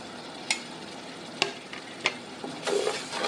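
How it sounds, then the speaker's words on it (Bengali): Mustard paste with chili flakes frying in a pan for mango pickle, giving a low, steady sizzle broken by a few sharp scraping clicks of stirring and a louder burst of frying near the end. "দিয়ে দিলাম, ভালোভাবে কষিয়ে নেব"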